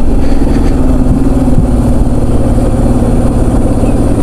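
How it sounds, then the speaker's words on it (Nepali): A motorcycle engine pulls hard uphill in fourth gear on a ride near Bardibas, a loud, close, continuous throbbing drone held under steady throttle. "चढे यार, चारका चार चढे कडा हो, पुरै फुकाउँदैछु मैले"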